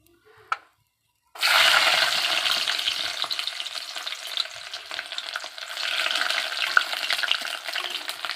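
Garlic dropped into hot oil with dried chillies, a brief clink and then a sudden loud, continuous sizzle that holds steady and bright throughout, close by.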